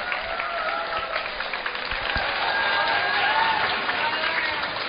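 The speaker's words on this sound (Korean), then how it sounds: "김남우 선생님께 다시 한번 큰 박수 부탁드립니다" A crowd of middle-school students claps for a guest teacher at a school talk concert in Gimcheon, Korea, sustained applause of many hands filling a hall at a steady level with a little crowd noise mixed in.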